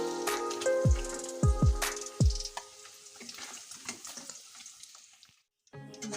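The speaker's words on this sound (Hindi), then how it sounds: "ये सेकंड बैच का फ्राई देखिए मैं कर रही हूँ" Paneer pieces fry in hot ghee in a kadai with a steady bright sizzle and crackle, broken early by several sharp low thumps and clatters as pieces are moved; the frying hiss continues alone, then briefly cuts out near the end.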